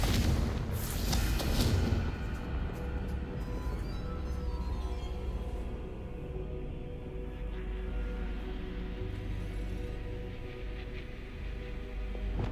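In Hogwarts Legacy, the fiery Confringo spell bursts in a sharp, loud explosion near the start, followed by a long rumbling decay that fades into low ambient noise.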